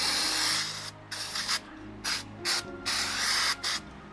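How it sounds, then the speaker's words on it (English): Cleaner sprayed onto a motorcycle chain in a quick series of short hissing bursts of uneven length, close and clear, with brief pauses between them. "Spray a little more in there."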